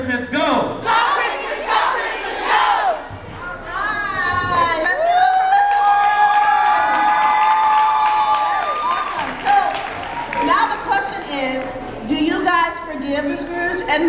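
A Christmas giveback event crowd chants "go Christmas" in rhythmic unison, then breaks into loud cheering, whoops and clapping, close and full, with a lead voice prompting between chants.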